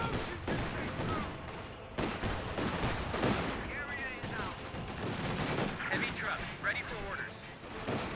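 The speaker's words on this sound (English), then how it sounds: "M15 fire away, suppress another Volksgrenadiers." An M15 half-track fires suppressive bursts in Company of Heroes 2, with rapid crackling gunfire and booming impacts layered over a steady battlefield din and voice chatter.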